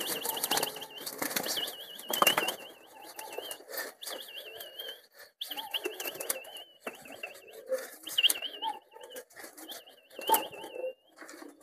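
Pet pigeons flap their wings in repeated bursts as they are herded indoors during heavy rain, with new birds among the flock. A wavering whistle sounds over the flutter.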